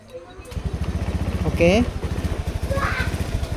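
A motorcycle engine restarted with the starter, catching and then chugging unevenly in a close, loud low putter, with someone briefly talking over it.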